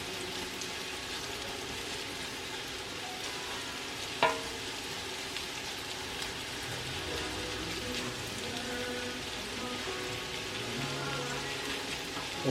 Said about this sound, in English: we're gonna start by sizzling that baby up and rendering that down some